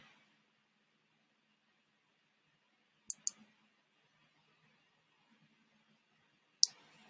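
Computer mouse clicking during a web tutorial, a quick double click midway and a single sharp click near the end, crisp and close against near silence.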